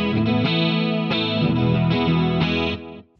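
Electric guitar with a touch of chorus, pickups combined for a warmer tone, playing a strummed chord riff; loud rhythmic chord hits that ring out and fade near the end, no speech.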